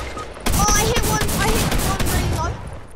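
Rapid gunfire in the Fortnite video game, a dense burst of shots rattling loudly for most of the moment, with excited voices talking over it.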